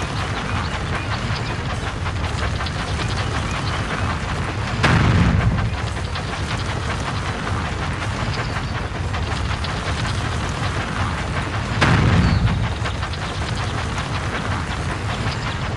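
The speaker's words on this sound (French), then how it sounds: "Atteins le sommet de la montagne avec ta locomotive avant qu'il ne cogne tes tampons!" A toy locomotive chugs along in a Thomas & Friends video game with a continuous loud rolling rumble, broken twice by heavier booming thuds several seconds apart.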